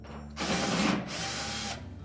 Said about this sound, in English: start by removing these two screws that secure that top panel